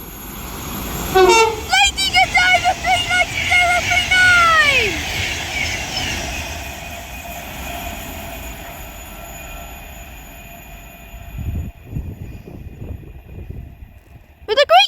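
An Avanti West Coast Class 390 Pendolino electric train passes through Tamworth station on the West Coast Main Line, with a squealing wheel and brake whine early on and a long rushing roar that fades, then a brief clatter.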